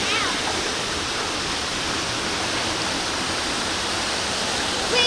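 Glen Falls waterfall swollen after rain, pouring into a pool in a steady, full-bodied roar of rushing water that holds an even loudness throughout.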